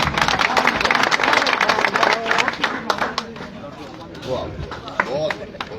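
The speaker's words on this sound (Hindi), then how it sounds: "प्रदीप गर्ग जी के लिए एक जोरदार तालियां" A crowd at a welcome gathering in Safidon mandi applauds strongly for Pradeep Garg, dense close clapping that thins after a few seconds while voices murmur and talk over it.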